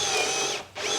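Power drill boring a pocket hole in wood: a high, steady whine that briefly drops out and then spins back up, close and loud, with no talking.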